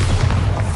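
A Bombarda blast spell goes off in Hogwarts Legacy on PS5, a single loud, deep booming explosion filling the whole brief moment with heavy low rumble.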